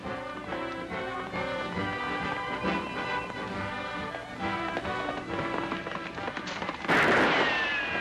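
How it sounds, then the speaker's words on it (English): Sharp gunfire from a film Western featuring sharpshooter Annie Oakley, a sudden loud crack near the end standing out over a continuous swell of orchestral music. "Sweet shooting, Annie."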